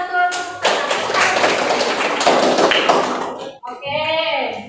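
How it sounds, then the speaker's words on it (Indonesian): A classroom of children clapping hands together in unison, a dense burst of claps for a few seconds before a voice follows. "Ibadah, betul. Tepuk tangan."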